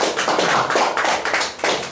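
A church congregation claps together in quick, dense applause at close range, a steady burst of many hands lasting about two seconds with no talking.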